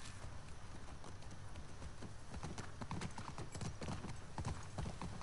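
Horse hooves clip-clop at a steady trotting rhythm in The Last of Us Part II, close and continuous over a low background rumble, with a faint voice now and then.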